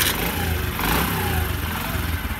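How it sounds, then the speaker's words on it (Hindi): A 2022 Honda CD 70 motorcycle engine runs loud and close, a steady throaty idle with a slight rise in revs partway through. "आपको अब स्टार्ट करके इसकी आवाज़ वगैरह सुनाते हैं।"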